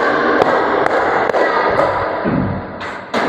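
Pupils in a classroom clap a five-beat pattern: four sharp, regularly spaced claps, a short pause with soft murmuring, then a final clap.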